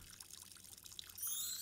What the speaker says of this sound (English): We should probably turn off the water since there's no drain right there.